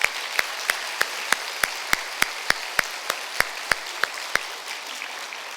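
Slow, evenly spaced claps ring out one at a time during a church worship service, sharp single strikes repeating in a steady rhythm over a quiet background.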